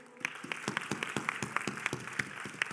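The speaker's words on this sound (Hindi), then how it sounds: "ज़ोरदार तालियों से मैं मंच पर बुलाना चाहूँगी श्री शेर सिंह यादव जी को" Audience applause welcoming a teacher onto the stage at a youth parliament session, a steady stream of claps with a few louder individual hits standing out, moderately close and without speech.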